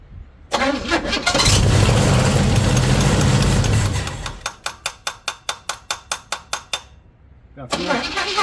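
A 1977 Pontiac Firebird engine cranks and catches, roaring loudly for a few seconds, then drops into a run of rapid rhythmic pulses before revving up again near the end.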